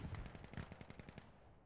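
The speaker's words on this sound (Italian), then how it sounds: "Gli spari mi preoccupano a sinistra perché temo che arrivi qualcuno." Rapid bursts of automatic gunfire in a video game, about a dozen evenly spaced shots in a fast rhythm, moderately loud and close, fading out toward the end.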